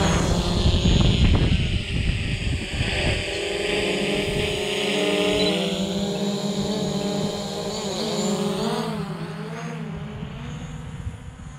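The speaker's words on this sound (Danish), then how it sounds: "lad os lige få hugget dronen i gang her" A camera drone spools up with a rising whine and then flies with a steady, loud, buzzing drone of rotors, its pitch shifting as it moves, on a cold farm near freezing.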